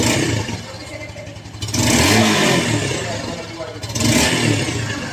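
A Yamaha Lagenda 115 motorcycle engine revs up close in loud, rough surges over a steady clattering idle. Its tone is coarse with some bass, and the revving rises twice.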